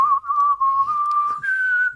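A person whistles a tune in one sustained, wavering pure note that steps up in pitch near the end, clear, close and alone.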